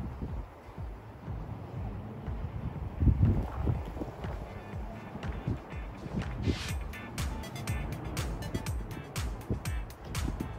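Gusty wind blowing during a spring snowfall outdoors, a steady rumbling roar with buffeting on the microphone and surging gusts, faint crackling and ticking toward the end.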